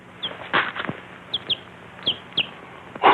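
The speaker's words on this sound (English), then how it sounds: "A chicken." A chicken clucks in short, sharp bursts scattered across a few seconds, close and fairly loud over a quiet, hissy background from a 1943 Western film.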